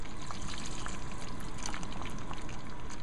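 Water poured into a simmering chicken korma sauce in a home kitchen, a steady continuous trickle and splash lasting a few seconds, close and alone without voices.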